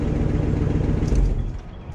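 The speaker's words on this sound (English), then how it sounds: "You can hear a little bit of a, a sputter from an exhaust leak" A Chevy K5 truck engine idling at its first start-up, a steady low rumble close by with a slight sputter from an exhaust leak, alone without talk.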